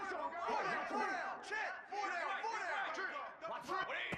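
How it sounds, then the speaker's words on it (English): A home stadium crowd roars and chatters loudly and continuously during a fourth-down play in the college football video game EA Sports College Football 26, with shouts rising through the din. "Home crowd trying to make a difference on 4th down"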